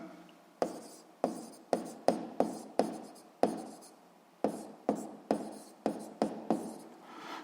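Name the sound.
writing out Hooke's law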